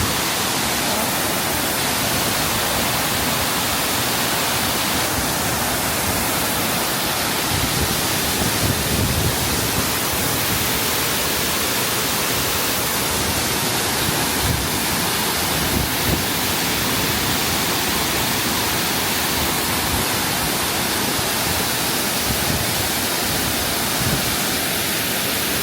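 Heavy water pours without pause at Tamaraw Falls during a typhoon, a dense, steady roar with no clear breaks, loud and close throughout.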